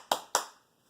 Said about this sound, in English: He claps.